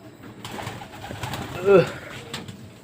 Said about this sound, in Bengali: এটা কবুতরটাও খুব ফাইন একটা কবুতর হয়েছে, ফিটনেসও অনেক ভালো